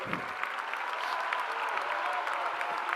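A political gathering's audience breaks into sustained applause, a dense wash of many hands clapping evenly at moderate volume, slightly distant, with no talk on top.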